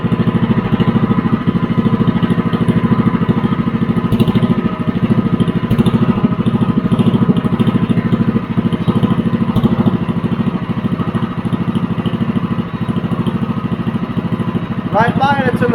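Predator 212 small engine fitted with a 12-disc muffler, idling with a steady, continuous low chugging drone that holds close and loud throughout, with a faint rattle and a brief sharp squeak near the end.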